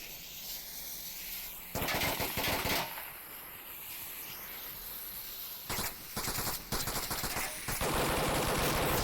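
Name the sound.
light machine gun fire in Onward VR video game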